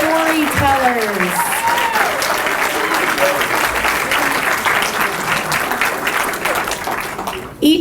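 A school event audience applauds storytellers steadily and loudly, dense clapping filling the whole stretch, with a few voices briefly audible near the start.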